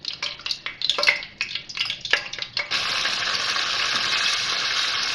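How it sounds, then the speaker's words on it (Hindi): Spoon scrapes and clinks rattle against a pot, then marinated chicken hits hot oil with whole cloves, black peppercorns and cinnamon, setting off a sudden loud, continuous sizzle that carries on to the end. "अब ये मैरिनेट की हुई चिकन इसमें शामिल कर रही हूँ।"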